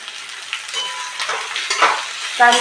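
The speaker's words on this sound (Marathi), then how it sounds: "आता त्यामध्ये जी कापलेली भेंडी आपण टाकणार आहोत आणि मस्त त्याची फ्राय होऊ देणार" Chopped okra frying in a pan gives a close, crackling sizzle with stirring clatter, louder bursts near the end.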